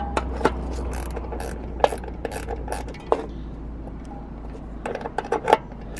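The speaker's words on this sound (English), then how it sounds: "I got my gear wrench and I'm trying to get this thing off" A gear wrench ratchets against a screw while scrap metal is taken apart in a park, giving sharp clicking runs in short bursts, close and fairly loud, with no talk.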